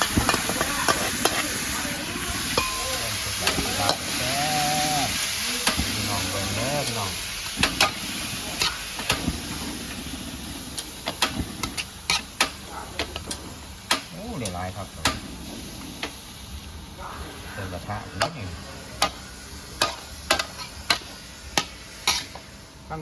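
A metal spatula repeatedly clangs and scrapes against a wok in quick irregular strikes over steady sizzling frying of duck larb, with a voice talking at times.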